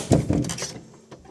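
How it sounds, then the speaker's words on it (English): The back door of a thatched cottage being shut quickly, a close thud with a brief rattle, then a short fading tail and a faint knock. "I'm going to shut the door behind me very quickly."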